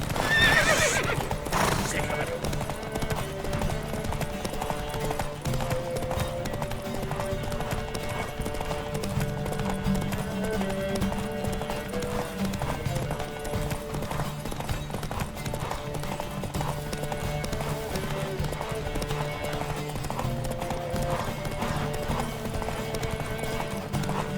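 Rapid hoofbeats clatter continuously beneath a layered musical score in The Witcher 3 horse race, with horses whinnying and a voice calling out near the start.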